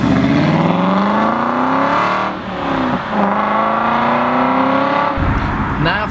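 Aston Martin V8 Vantage Roadster engine pulling hard while driving, loud rising revs dropping at gear changes twice before a final downshift rumble, close and continuous.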